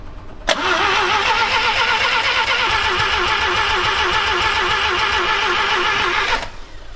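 Rotary pickup truck engine cranking in freezing cold, a loud close starter grinding in rapid even pulses that begins abruptly and stops about six seconds later without firing.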